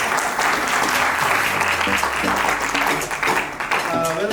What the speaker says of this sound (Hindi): इनके लिए जोरदार तालियां तो बजाइए।